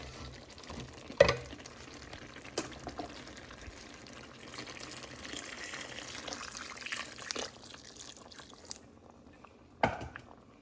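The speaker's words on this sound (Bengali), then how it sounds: "এখন পরিমাণ মতো গরম পানি দিয়ে দিব" Hot water is poured into a simmering meat and potato curry, making a soft, low pour and bubbling, with a few sharp utensil taps at the start and end.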